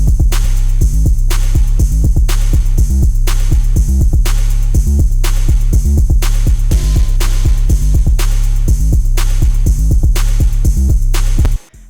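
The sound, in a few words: snare drum in FL Studio beat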